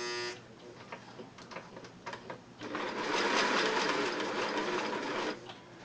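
Singer 600E sewing machine winding a bobbin: after a few clicks and handling taps, the motor runs in a steady whir for about three seconds, then stops.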